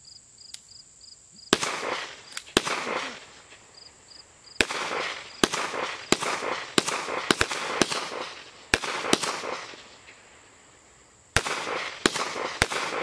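An SKS rifle firing outdoors at a family shoot, a series of sharp loud cracks at irregular intervals, some in quick clusters, over a high electronic hearing-protection tone and faint background.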